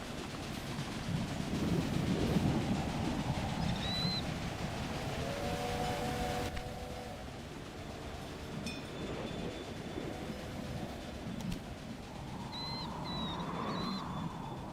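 A train rolls along rails in the Railway Empire video game on a German map, a steady rumble with faint wheel clatter and brief squeals, plus occasional bird chirps in the background.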